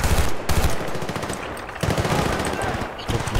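Sustained machine gun fire in the video game Battlefield 2, a dense rapid stream of loud shots with brief breaks, mixed with heavy battle noise and no talk.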